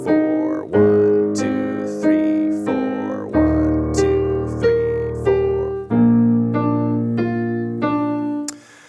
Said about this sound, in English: the right hand is going to play quarter notes based on those triads